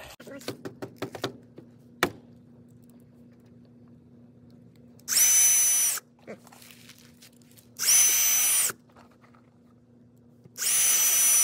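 A power drill drives screws into wooden wall posts and roof trusses of a garage under construction, three loud sustained whirring bursts of about a second each, spaced a few seconds apart, after some scattered clicks and knocks.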